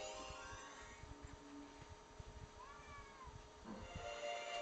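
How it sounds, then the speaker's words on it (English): A house cat meows at a door, a few faint rising calls around the middle, heard over a low background hum with no talking. "I think that's my cat. I'm gonna let him in."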